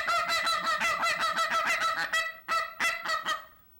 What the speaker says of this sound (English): Snow and blue geese make a sound that go like a little higher pitched voice